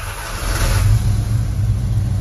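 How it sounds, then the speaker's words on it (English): A 1972 Ford F250 4x4 truck engine revs up from idle, a deep close rumble that rises and then holds steady, loud and alone. "But I wanted to show you it revving and stuff."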